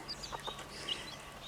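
Big hens cluck softly in their enclosure, a few short quiet clucks and chirps over a low background, with no talking.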